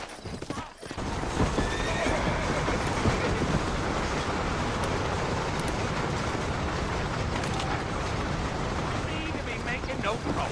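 Horses whinny and hooves clip-clop in the Red Dead Redemption video game, a loud, continuous scene with a sharp neigh near the start, rumbling movement throughout and a character's voice speaking over it.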